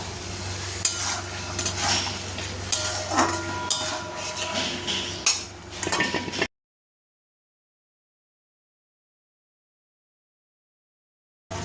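Fried paneer pieces are tipped into a pan for paneer korma, bringing stirring, sizzling and clinks of utensil against pan for about six seconds before the sound cuts to silence.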